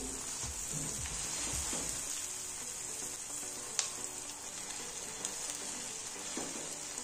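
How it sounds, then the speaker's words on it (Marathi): Halved pav bread rolls toast on one side in spiced masala in a pan over low flame. A soft, even sizzle and crackle runs the whole time, with an occasional faint tap and no talking. "एका साईडने पाव भाजून देऊ।"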